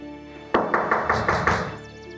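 Someone bangs on a door with a burst of about six heavy, evenly spaced knocks, loud and close, with no voices over them.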